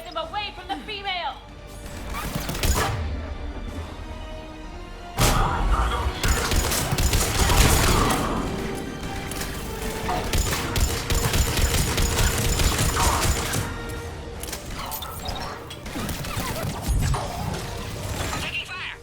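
Gunfire in a Mass Effect Legendary Edition firefight, dense bursts of shots and impact crashes repeating throughout, loud and busy, with voices shouting over the combat.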